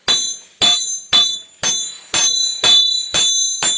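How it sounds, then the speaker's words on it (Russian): Hammer strikes a steel Sakha knife blade on an anvil during forging, eight evenly spaced ringing, metallic blows close by, each with a bright clang and short decay, with no talk. "Вот, куем потихонечку."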